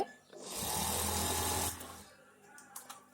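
A sewing machine stitches the hem of a nightie in one steady whirring run of about a second, close and loud, then stops, followed by a few faint clicks and handling sounds.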